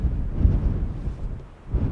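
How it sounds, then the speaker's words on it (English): Strong wind buffeting a microphone fitted with a wind muff outdoors in extreme wind: steady low rumbling gusts swell and dip throughout, loud and close, with no speech. "It's very windy up here,"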